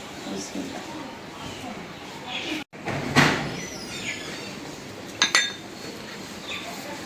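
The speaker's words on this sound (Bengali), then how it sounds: "এখন মানে আমি শুটকি মাছ রান্না করার জন্য কড়াইটা বসাই দিই" A metal wok is set down on a home stove, ready for cooking dried fish, with one clear clank followed later by a couple of lighter metallic clinks, while a person talks throughout.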